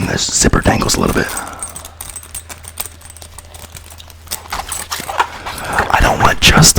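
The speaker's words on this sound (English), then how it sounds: "And I kind of like when the zipper dangles a little bit." A dangling clothing zipper jingles and clicks in light, irregular metallic taps, near and soft, with quiet talking mixed in.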